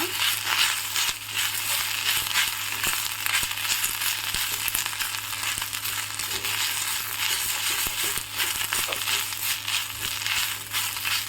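Drumstick leaves sautéing in ghee give a steady, dense sizzle and crackle that runs unbroken and fairly close throughout, with no voices.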